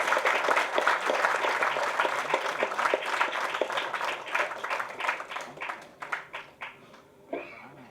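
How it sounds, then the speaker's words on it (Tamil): Audience applause at an award ceremony honoring community service workers, a dense wash of many hands clapping that thins into scattered, separate claps near the end. "இன்னும் நல்லா கைத்தட்டு உற்சாகமா இருக்கலாம்."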